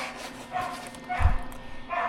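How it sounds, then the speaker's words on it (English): A dog in a backyard near a welding workshop gives a few short yips and barks at moderate distance, with some faint background noise between them. "Never mind the barking dog."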